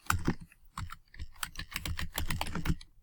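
Typing on a computer keyboard: a quick, uneven run of close key clicks for about three seconds, with no talk.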